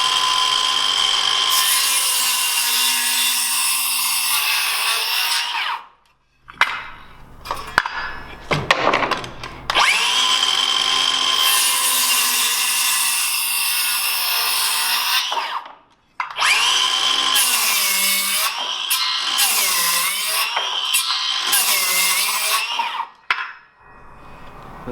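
A Milwaukee 7.25 inch circular saw rips through 2x4 lumber in several long, loud, close cuts, the motor whining under load between brief drops to near silence as the blade spins down and restarts.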